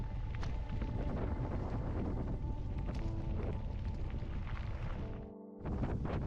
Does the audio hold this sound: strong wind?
yes